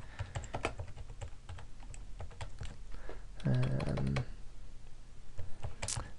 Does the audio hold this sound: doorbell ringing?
no